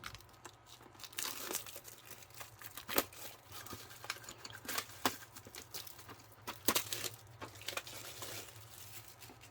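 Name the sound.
plastic wrap being torn open with a pencil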